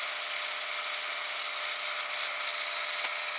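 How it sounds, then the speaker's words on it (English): A drill press whines steadily at high pitch as it bores into a urethane resin casting held in a jig, one continuous buzzing run with a brief blip near the end. "let's head on over to the drill press, and I have a little jig set up. So let's fire up the drill"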